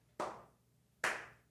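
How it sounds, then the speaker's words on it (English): Two slow, deliberate hand claps, spaced about a second apart, each sharp and close with a short decay, in a quiet room at a coffee shop. "that's a terrible slow clap"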